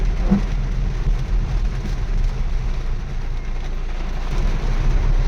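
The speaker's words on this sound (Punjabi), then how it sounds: "ਮੀਂਹ ਬਹੁਤ ਤੇਜ਼ ਆ" Dense, continuous wash of noise like heavy rain in a Punjab village mixed with a low rumbling drone, steady and fairly loud from start to finish.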